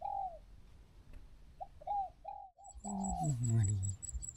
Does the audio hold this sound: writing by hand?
no